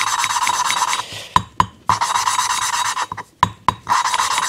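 Gritty rasping strokes of an engine valve being rotated back and forth against grinding compound during a Bombardier Quest 500 engine rebuild, with brief pauses and a few sharp taps between bursts.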